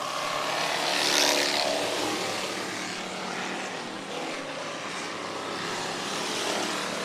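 Ford Crown Victoria race cars roar around Showtime Speedway in a 2020 race, a dense, steady engine drone with a swell near the start as a pack passes close, then a sustained loud wash of multiple cars.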